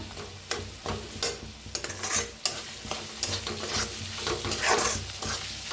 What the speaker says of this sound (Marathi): आता छान भाजून घेऊया. छान भाजायचं तेल सुटूस तर म्हणजे मसाला.